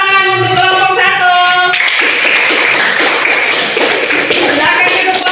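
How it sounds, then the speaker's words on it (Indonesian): A class of students claps for the first group after its presentation on renewable energy. A tonal voice or whistle sounds at first, then dense, loud hand-clapping from the group fills the rest of the clip. "Kita tepuk tangan untuk kelompok 1."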